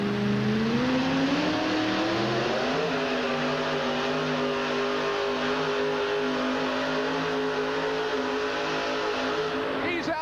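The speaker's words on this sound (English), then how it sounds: "Listen to this truck." A powerful monster truck engine revs loudly and steadily at a 1989 USHRA event in Hartford, its pitch climbing then holding, with a short sharper burst near the end.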